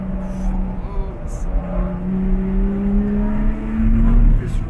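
A Lotus Exige 350 Sport on a race circuit braking hard, its engine note dropping in steady tones with a rising whine near the end, loud and close throughout, with a voice talking over it.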